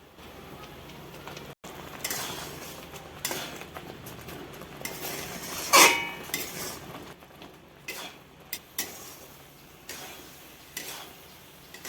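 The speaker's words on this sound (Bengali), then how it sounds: "এখন আমি সুজিগুলো দিয়ে দিব এভাবে নাড়বো আর আস্তে আস্তে করে দিয়ে দেবো" Semolina being stirred in a pan for motichur laddu, with a steady scraping of a spoon against the metal and several sharper clinks of utensils, close and alone with no talk.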